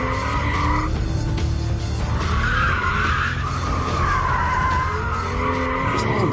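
A BMW car drifts with its rear end out, tires squealing continuously over a loud engine roar, close and sustained without a break.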